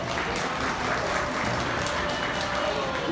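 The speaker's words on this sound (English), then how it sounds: "By a round of applause, should he go back?" Audience applause at a 4-H fair stage hypnosis show, steady, dense clapping filling the whole moment with a faint murmur of crowd voices underneath.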